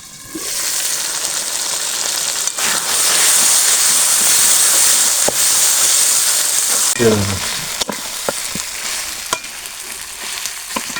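Farm-raised country duck meat sizzles loudly as it is sautéed in a pan, a dense, constant hiss with occasional stirring scrapes and brief bubbling near the end.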